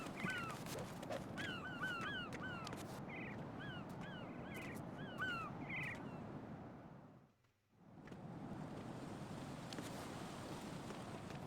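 Seagulls cry in a rapid series of sharp, yelping calls over a steady wash of wind and water in the video game Metal Gear Solid 2, before the ambience briefly drops out and returns.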